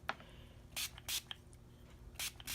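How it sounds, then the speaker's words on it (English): A hand spray bottle puffs water onto brayer-inked paper in four short, crisp hissing bursts, two close together and then a paired set, with faint handling clicks between them and no talking. "I'm going to use this so you can watch me spray. I'm putting a lot of water on there"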